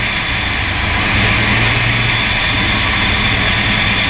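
A Foxbody Mustang fitted with an On3 turbo idles with a loud, steady engine drone that swells slightly partway through, a close and continuous roar.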